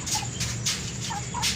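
A Shamo cross rooster gives short gobbling, guttural calls close by on a rooftop, repeated a few times against a low steady hum.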